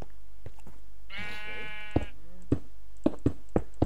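Sheep in the Minecraft video game bleat once in a clear, wavering cry, surrounded by several soft clicks and taps, with a quiet steady hum underneath.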